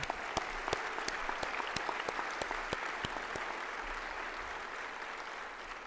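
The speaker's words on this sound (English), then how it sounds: "let's give him a round of applause for that" Audience applause at a conference opening session, honoring a meeting chair named Lyle: dense steady clapping from a large crowd with a few sharper nearby claps standing out, sustained throughout.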